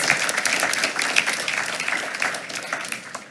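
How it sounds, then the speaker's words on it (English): An audience at a school board meeting claps for an honored teacher, a lively burst of applause that gradually thins and softens toward the end. "And let's give her one more round of applause"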